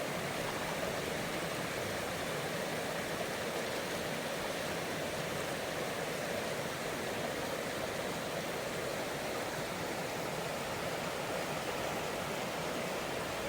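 Steady rushing of a river flowing outdoors, a dense, continuous wash of water noise holding at even loudness throughout with no voices.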